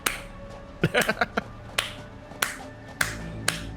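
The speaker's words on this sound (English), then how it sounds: "We're doing a slow clap" Sharp, sparse claps ring out one at a time at an unhurried pace in the video game Satisfactory, with a brief cluster of quicker claps early on.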